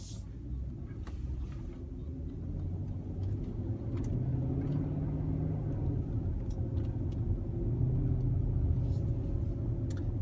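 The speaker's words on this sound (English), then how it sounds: "So right now I'm driving through the streets of Riverside." A car drives through the city streets of Riverside, its engine and road rumble forming a steady low drone, heard from inside the cabin without any talk.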